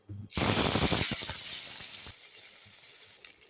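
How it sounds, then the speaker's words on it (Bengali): Bay leaves dropped into hot oil burst into a loud, close sizzle that flares up sharply, then settles into a steadier hiss that slowly fades. "তেল গরম হয়ে দিয়ে দিচ্ছি তেজপাতা, তেজপাতা লাল হয়ে দিয়েছি জিরে"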